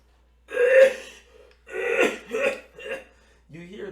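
A voice imitates coughing rats in a tabletop fantasy sewer scene, with several rough, throaty hacking bursts and short gaps between them, close up and loud.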